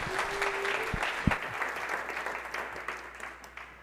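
Audience applause at a Devcon VI tech conference stage in Bogotá welcomes the next speaker: steady, dense clapping from a crowded room, holding at a moderate level for a few seconds.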